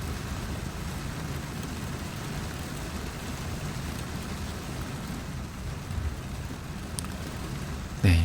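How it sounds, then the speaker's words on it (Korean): Steady rain falls outdoors in Korea, a dense even hiss of drops on surfaces that continues unbroken at moderate loudness, with a brief thump at the very end. "빗소리를 들으니까 약간 차분해지는 느낌이 드는데요."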